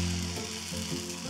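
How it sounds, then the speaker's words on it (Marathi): Thin batter sizzles on a hot griddle as it is poured and spread, a close, steady frying hiss with no talk over it. "हे बॅटर हलकंसं पातळ आपण केलं आहे, त्यामुळे हे तव्यात घालताना मधोमध घालायचं"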